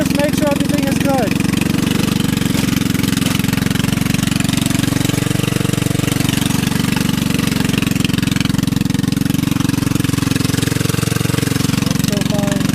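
A lawnmower-engine go-kart idles steadily and close by, its low mid-range drone continuous and loud, with a person speaking over it.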